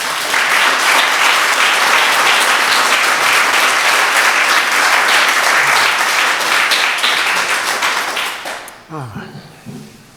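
A loud, dense round of audience applause at a poetry reading welcomes a poet, sustained clapping from a full room that fades out near the end as a voice begins.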